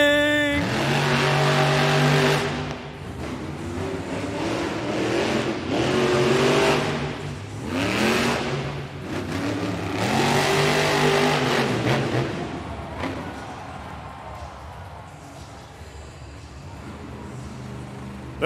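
Monster trucks at a Monster Jam freestyle event in Hamilton, Ontario rev their engines hard at the race start, loud rising and falling roars in repeated surges over a steady arena rumble, fading somewhat toward the end.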